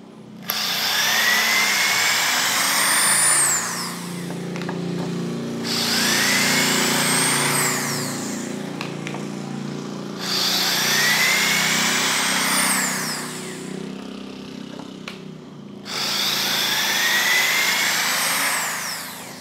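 An ALDO BLT1008 cordless drill unscrewing at low speed whirs in four long, steady runs, separated by short pauses, loud and close with no talking.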